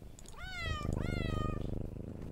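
A cat in a PS1-style island video game gives two rising, drawn-out meows in quick succession, close and clear, over a low, murky game ambience.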